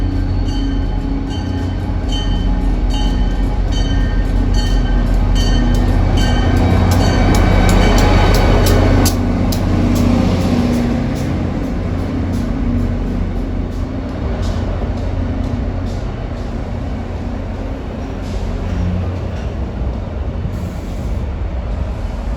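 A CTRail GP40 PH2 locomotive pulls into the track at a station, a loud, steady rumble of engine and rolling wheels lasting throughout, swelling briefly in the middle before settling into a continuous drone.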